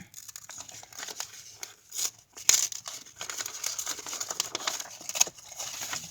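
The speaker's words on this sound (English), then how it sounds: "I'm going to open it up all the way, trying not to tear it" Paper envelope being opened up by hand for a journal craft kit, with continuous close crinkling and a few brief tearing rips, irregular and moderately loud.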